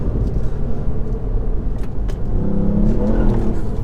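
A Ford Fiesta ST with a Stage 1 remap accelerates hard on a B road, the engine droning loud and close inside the cabin, then dipping briefly at the short shift into second before pulling again.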